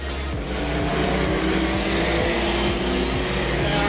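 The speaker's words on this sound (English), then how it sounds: "Brad Yarrow is on the outside as they go round the hairpin corner" Production sedan race cars roaring around a dirt speedway hairpin corner, a dense continuous engine drone with several cars revving and passing close, loud and steady with no talk.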